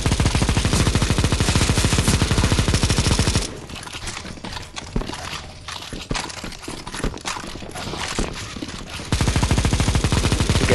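Dense, rapid automatic gunfire fills a round of CS:GO zombie escape mod on the map ze_moltentemple. Bursts hammer back to back, thin out into scattered shots in the middle, then return at full intensity.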